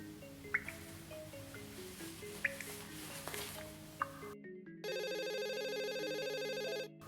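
A telephone rings with a steady electronic trill of about two seconds, loud and alone, after a stretch of music with sharp drip-like plinks.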